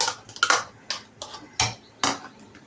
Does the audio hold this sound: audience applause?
no